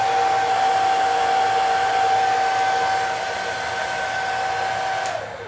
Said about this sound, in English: I'm gonna go grab like a hair dryer or something